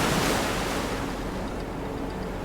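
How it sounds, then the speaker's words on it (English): Massive ocean swells crash over concrete docks on the Hokkaido coast in strong gusty wind, making a loud, continuous roar of surf mixed with wind buffeting the microphone, with no voices. "Strong gusty winds create an epic sight as massive ocean swells crash over"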